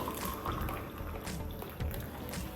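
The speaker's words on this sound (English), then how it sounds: "I've got the tea bag and I'm going to pour in boiling water into it" Boiling water poured from a kettle onto a mullein and thyme tea bag in a cup, a soft continuous splashing trickle, close and moderately quiet, with no voices.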